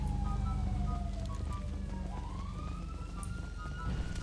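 A police car siren in the FiveM video game wails through a long, gliding up-and-down sweep, loud and steady against a low rumbling game background with no talk.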